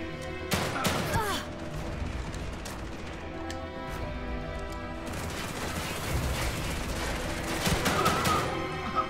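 Enemies in The Evil Within 2 fire guns in scattered volleys, with sharp cracks and impacts early on and a denser, louder barrage of gunfire later amid background game noise.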